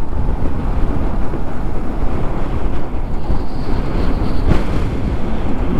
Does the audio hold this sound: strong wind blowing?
yes